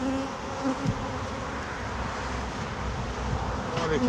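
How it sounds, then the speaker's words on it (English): Honeybees swarm around an open hive during an early spring inspection, giving a dense, steady buzz close to the microphone with faint wind noise underneath. "A lot of bees and it's still being born"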